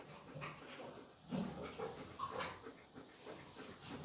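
Quiet, rapid breathy panting from a dog close by, with a few soft whimpering sounds mixed in.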